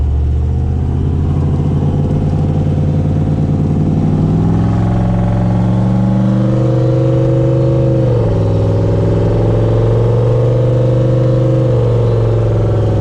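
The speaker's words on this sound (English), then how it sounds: "I just want to listen to the transmission as we're driving" Turbocharged 6.0 L truck driving along, its engine droning steadily with rising and falling revs as the transmission shifts, loud and close throughout with no talking.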